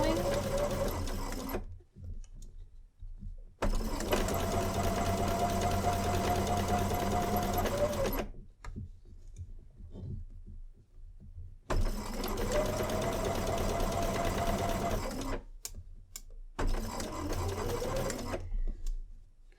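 A sewing machine stitches a curved seam in fabric, its motor whirring in loud, steady bursts separated by short pauses, with faint talk in the gaps.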